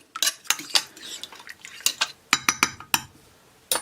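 A spoon stirs crushed peeled tomatoes with salt in a bowl, giving a close series of sharp metallic clinks and scrapes in an uneven rhythm.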